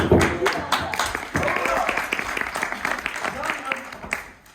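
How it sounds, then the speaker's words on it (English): An audience at the Te Puia Maori cultural show in New Zealand claps for their chief, a dense round of applause close by with a voice speaking through it. "How about you give your chief today a big round of applause?"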